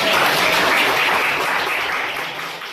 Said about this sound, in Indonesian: Oke, kasih applause buat kelompok.